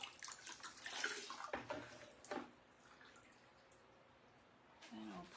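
Heavy marbled paper rinsed under running water, a soft splashing flow that rises and falls, then settles into a faint trickle before a brief final splash.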